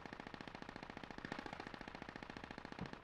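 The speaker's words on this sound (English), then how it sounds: "you can hear the booming shots from the autocannon" A LAV's autocannon fires in the video game Squad, a fast, steady stream of booming shots spaced evenly across about three seconds. The bursts stay dense and loud, with no voices.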